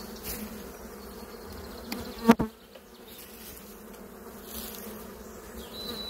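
Honeybees from a swarm buzz in a steady, close drone while the bees are brushed off and handled, with a sharp knock or thump partway through.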